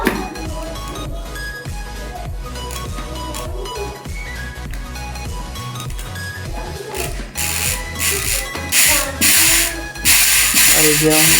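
Bicycle rear hub with a freshly serviced freewheel spinning, producing rapid continuous ratchet clicking that grows louder and harsher in the second half, close and alone.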